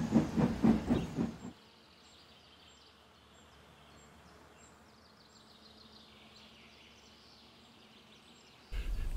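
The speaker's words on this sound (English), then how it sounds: "We'll catch him, puffed Edward, crossing to the upline in pursuit" A steam locomotive crossing to the up line in pursuit chuffs loudly in quick, rhythmic puffs for about a second and a half, drops to a faint hiss and low rumble, then bursts back loud at the very end.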